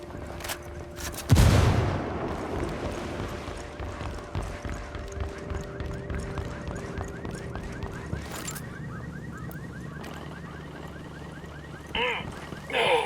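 In the video game Ghost Recon Wildlands, a frag grenade bursts loudly near the start, followed by scattered bursts of gunfire and faint voices in the background.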